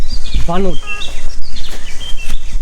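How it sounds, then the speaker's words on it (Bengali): Birds chirp in the forest of Madhupur National Park: a few short, bright, rising calls stand out near the start, then scattered faint twitters follow over a noisy outdoor background while someone speaks. "এদিকে শুধু পাখিদের কিচিরমিচিরের শব্দ"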